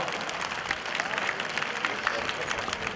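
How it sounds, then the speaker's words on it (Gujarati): A crowd claps for the women being honoured at a community gathering, a dense, even patter of hands sustained for the whole stretch at moderate loudness, with faint voices blending into the background. "તાળીઓથી વધાવો."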